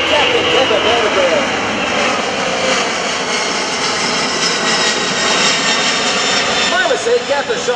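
A C-17 Globemaster III military jet transport roars loudly at an airshow at Joint Base McGuire-Dix-Lakehurst, a steady powerful engine drone with a public-address announcer talking over it.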